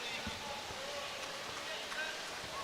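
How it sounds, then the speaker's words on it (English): Heavy rain pours steadily outdoors at a bowls event, a constant hissing wash with scattered drops and no pauses, moderately loud throughout. "Pouring with rain once again."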